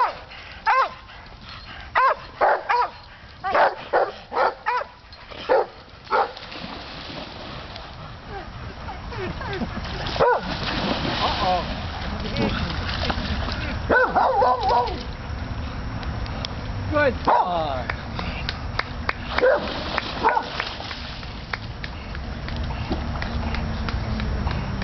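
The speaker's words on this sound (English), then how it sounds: "Good dog. Good dog." A dog fetching at the water at Black's Nook gives a burst of sharp, close barks early on, then splashes and scattered yaps continue under intermittent human talk.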